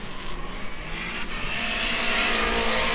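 Drift car at a street drift event, Lock City Drift Street Series round 4, throttling hard down a hill: a steady, loud, continuous engine roar with tire noise that holds for the whole stretch.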